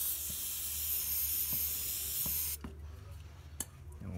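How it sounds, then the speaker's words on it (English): Brake cleaner sprays in a loud continuous hiss onto the lower pulley of a John Deere D140 ride-on mower, then cuts off abruptly, leaving faint clicks and handling noises. "We'll clean the bottom pulley with brake cleaner."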